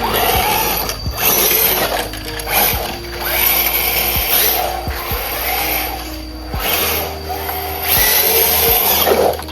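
An RC car fitted with a Hobbywing Quickrun Fusion Pro Elite 2300KV brushless motor runs at full throttle in bursts, a high electric whine that surges and cuts repeatedly over about ten seconds, close and fairly loud.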